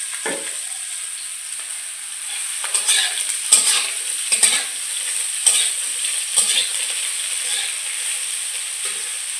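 Garlic cloves and ghetkol fry in a pan while being stirred. A steady hot sizzle swells with several scraping stirs of a spatula, close up and with no voices.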